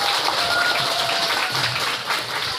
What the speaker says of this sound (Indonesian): Ini tepuk tangan untuk beliau.